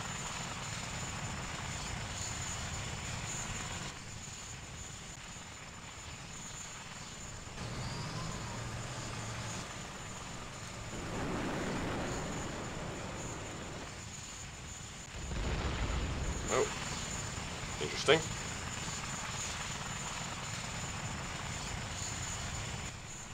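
A Mi-28 attack helicopter flies in the war game Call to Arms, its engine and rotor making a continuous, moderately distant drone. A few sharp bangs cut through it near the end.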